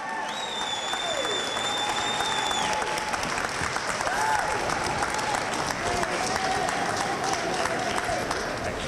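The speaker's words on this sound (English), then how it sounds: "One more round of applause for your Olympic champion, Elana Meyers Taylor." Sustained crowd applause with cheering and whistles at an outdoor welcome-home celebration for Olympic bobsled champion Elana Meyers Taylor, loud and steady throughout, with voices mixed into the din.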